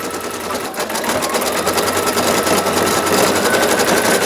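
An embroidery machine stitching free standing lace earrings runs loud and steady nearby, its rapid needle strokes forming an unbroken, buzzing mechanical rhythm.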